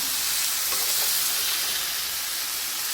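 A kilo of tomatoes fries in a pan for a tomato curry, with a steady close hissing sizzle that stays even throughout and faint stirring beneath.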